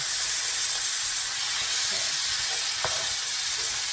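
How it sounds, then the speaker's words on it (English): Black-eyed peas being stirred into sausage and greens in a pot, under a steady close sizzling hiss with faint clinks and scrapes of stirring, no talk. "And now I'm going to mix the black-eyed peas in"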